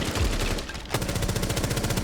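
Rapid automatic gunfire from a first-person shooter game, loud sustained bursts with a sharp rhythmic rattle and a brief pause before firing resumes.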